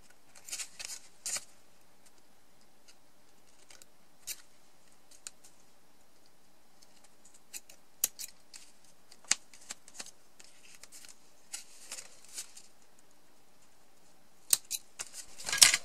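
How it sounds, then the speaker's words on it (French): Scissors trim excess paper from a handmade compact mini album, giving faint, sparse snips and small rustles in a quiet room, with a cluster of sharper cuts at the end. "je vais découper le surplus."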